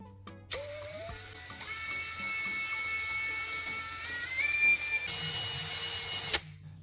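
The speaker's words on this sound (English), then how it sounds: "Turn on the drill and bring sandpaper close to the spinning rod." A power drill spinning a graphite rod whines at a steady high pitch, shifting slightly in tone, with a harsh scraping grind layered in as sandpaper presses against the rod.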